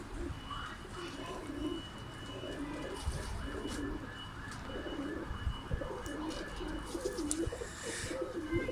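Kelebek pigeons cooing in a loft, soft repeated low coos running steadily under a busy background of other birds and faint ambient noise.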